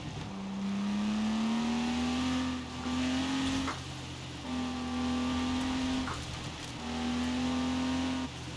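A Lego Porsche sports car engine idling in Forza Horizon 4 hums in steady sustained tones broken by short gaps, with the pitch settling and rising slightly, fairly loud and alone.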